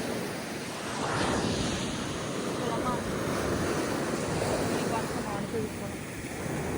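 Ocean waves wash up on Crystal Bay Beach on Nusa Penida, a steady close surf roar with gusting wind buffeting the microphone throughout.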